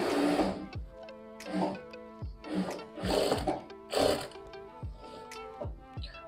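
Sewing machine stitching a shirt collar in a tailoring job, rapid mechanical clatter in short bursts with brief pauses between runs, close and moderately loud, no speech.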